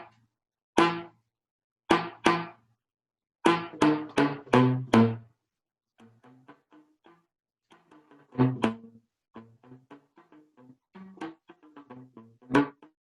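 A saxophone played with the closed slap-tongue technique gives short, percussive popping notes with a plucked, bass-like thump, in separate clusters of loud attacks broken up by quieter, clipped hits and brief silences.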